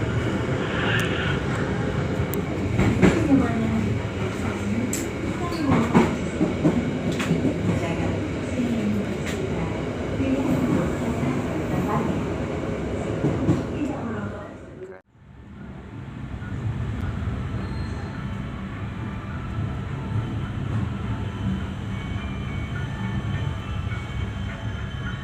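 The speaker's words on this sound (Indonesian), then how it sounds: "kereta tiba di stasiun Cirebon Perujakan." Matarmaja economy-class train pulling into Cirebon Prujakan station, heard from inside the carriage as a steady, loud rumble and rattle of wheels and running gear. The noise drops sharply for a moment midway, then resumes, with voices talking over it.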